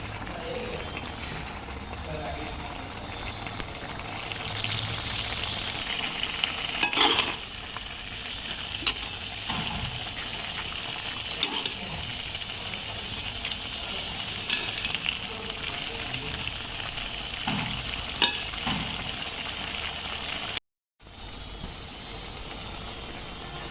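Grated carrots cooking down with ghee, milk, sugar and cardamom powder into gajar halwa: a steady close sizzle runs throughout, broken by occasional sharp scrapes and knocks of stirring.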